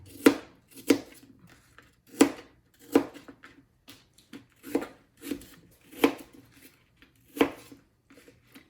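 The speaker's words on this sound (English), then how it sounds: "first I'm gonna chop up all these apples" A knife chops through apples on a cutting board in about ten sharp, evenly spaced strokes, each a crisp thunk against the board, close and clear with no voices.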